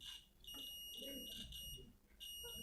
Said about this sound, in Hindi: मीटर को कंटिन्यूटी पे रख के इन दोनों पॉइंट्स को हम चेक करेंगे।